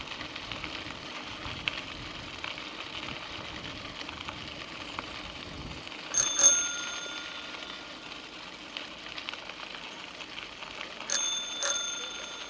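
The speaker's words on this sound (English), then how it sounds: "Thank you for using your bell." A bicycle bell rings twice on an outdoor ride, each a short pair of bright dings several seconds apart, over steady road and wind noise.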